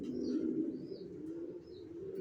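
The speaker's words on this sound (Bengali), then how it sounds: "টপ কোয়ালিটি এ গ্রেড কবুতর এগুলো" Racer pigeons cooing up close, a soft low throaty coo running continuously with a few faint higher chirps on top, no voices.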